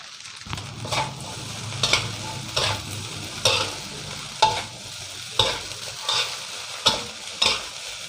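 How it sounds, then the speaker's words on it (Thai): Chinese sausage sizzles steadily in a hot pan while a utensil scrapes and stirs in regular strokes, close up, with no voices. "ตอนนี้เราก็จะใส่กุนเชียงเลยครับ"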